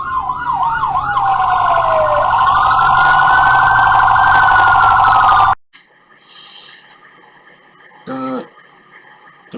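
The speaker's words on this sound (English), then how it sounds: "The ambulance then comes." An ambulance siren wails loudly and close, shifting between rapid yelp and slower rising-falling tones for several seconds before cutting off abruptly, followed by quieter scattered noises.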